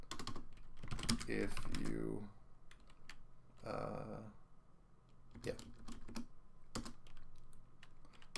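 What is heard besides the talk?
loud typing on a computer keyboard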